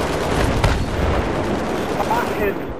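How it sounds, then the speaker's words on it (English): Heavy, continuous artillery and gunfire rumble from a video game battle at Seine Crossing, loud, dense booms and crackle filling the scene with no pauses, close and overwhelming. "we're getting bombarded on Alpha"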